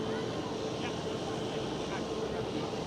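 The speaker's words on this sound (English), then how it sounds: "There goes the KLM 787, KLM Asia" A KLM Boeing 787 airliner departing Amsterdam Schiphol airport, a steady broadband jet roar heard at a distance, with people talking over it throughout.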